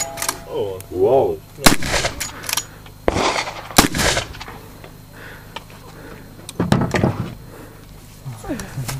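A small gun fires several sharp, loud shots outdoors, separated by pauses, with people talking in between and clatter of handling.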